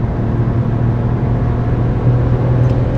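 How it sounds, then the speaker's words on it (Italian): A Smart fortwo Brabus with a 71 hp engine accelerates hard, its engine droning steadily with a rising, strained tone heard from inside the car, loud and continuous. "Senti come canta sta macchina, oh."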